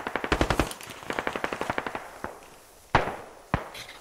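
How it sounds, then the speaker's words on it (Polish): Squad video game firefight: rapid bursts of automatic gunfire rattle loudly through the first two seconds, then two sharp, heavy single shots ring out alone with a short echoing tail. "No to jest firefight, nie?"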